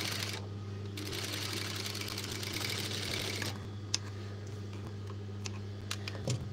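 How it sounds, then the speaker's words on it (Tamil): An electric sewing machine stitches a girl baby's shirt, its steady whirring hum running throughout with a brighter buzzing burst in the first few seconds, and a few sharp clicks near the end. "ஒட்டி வந்து தையல் போடுங்க."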